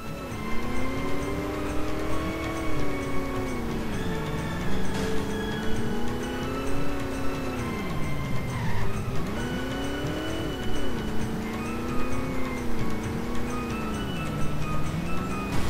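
Car driving in The Simpsons Hit and Run video game, a steady engine drone rising and falling in pitch with repeated revs, game music and effects layered over it, loud and continuous with no talking.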